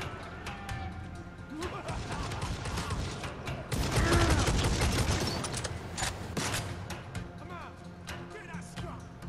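Turret gunfire in the Necromunda: Hired Gun video game rattles in dense, rapid bursts mixed with mechanical clanks and impacts, peaking loudly midway, with a voice talking over parts of it.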